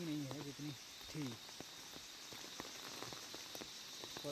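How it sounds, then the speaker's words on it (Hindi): Sparse raindrops tap at scattered intervals on surfaces in a jungle at night after heavier rain has eased, faint and irregular against a soft background hiss, with a brief voice-like sound early on. "हालांकि बारिश अभी भी बूंदों में है"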